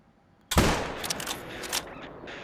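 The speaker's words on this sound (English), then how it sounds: "I'm going to stand there and give us a 7mm shot" A single loud 7mm rifle shot in theHunter hunting game, a sudden sharp crack followed by rolling echoes and reverberation that taper off over two seconds.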